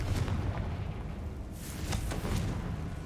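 Fiery Confringo spell blasts from Hogwarts Legacy, a few sharp bursts and booms over a dense rumbling game soundscape.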